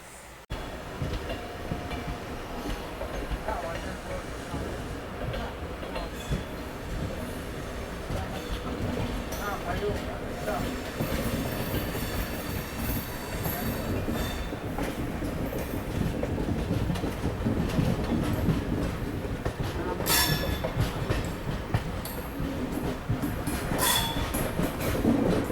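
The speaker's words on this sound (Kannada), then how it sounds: "ಇದು ಬಂದ್ಬಿಟ್ಟು ತಿರುಚರಪಲ್ಲಿಯಿಂದ ಗಂಗಾನಗರ್ಗೆ ಹೋಗುವಂಥ ಹಮ್ಸಫರ್ ಎಕ್ಸ್ಪ್ರೆಸ್ ರೀ" The Humsafar Express, a long-distance train running from Tiruchirappalli to Ganganagar, rumbles past steadily with rhythmic wheel clatter and occasional squeals. The sound stays loud and continuous, with faint voices underneath.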